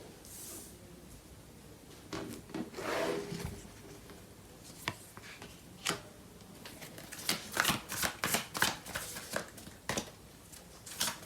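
Tarot cards are handled and shuffled by hand, soft riffles and slaps building into a quicker patter of card snaps in the second half, close and quiet.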